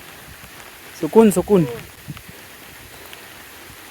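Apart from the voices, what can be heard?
rain falling in a village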